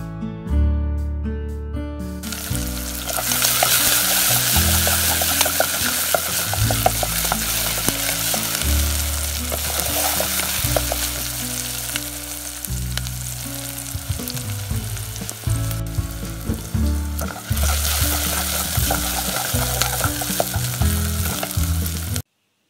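Chopped onions hit hot oil in a pan while cooking a drumstick dish, giving a loud, continuous crackling sizzle punctuated by occasional stirring scrapes, close up and steady for over twenty seconds.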